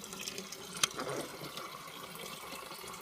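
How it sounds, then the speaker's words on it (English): Water trickling and draining from an HVAC condensate line with its trap pulled off and the line double trapped, heard up close as a steady low splash with one sharp knock near the start. "We've got a bunch of water draining really nice now out of our system."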